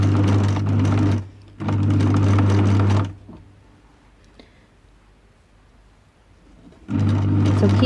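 A sewing machine stitches the shoulder seam of a stretch top in loud, steady bursts, stopping briefly, then running again, with a long quiet pause before the final run.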